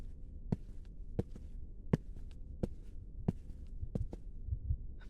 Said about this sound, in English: your heartbeat is a dead giveaway.